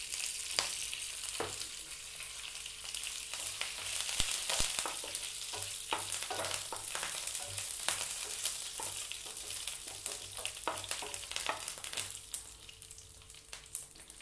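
Curry leaves and dried red chillies crackle in hot oil in a pan, a dense continuous sizzle with sharp pops and stirring scrapes, close and clear with no talking.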